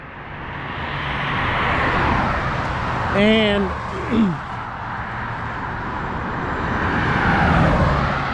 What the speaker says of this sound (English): It's going to be loud because the cars are going by.